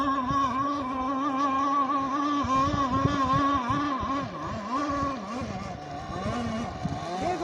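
A motorboat engine runs steadily on the water with a loud, wavering drone that rises and falls in pitch as it holds speed, close by and continuous.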